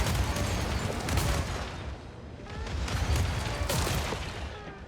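Fireworks launch in the post-apocalyptic car RPG Dust Raiders as a dense, continuous barrage of crackling blasts and booms, loud and sustained in two rolling surges.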